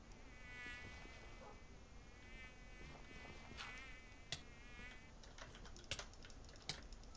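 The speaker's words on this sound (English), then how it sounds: "Oh, apparently mosquitoes can fly underwater." Mosquitoes and flying insects whine with a thin, wavering buzz that drifts close and away, joined by a few sharp clicks and taps toward the end, with no talking.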